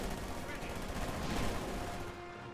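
MG-42 machine gun fire in Company of Heroes 2 keeps up a dense, continuous rattle through most of the stretch, fairly quiet and muffled, with game noise around it.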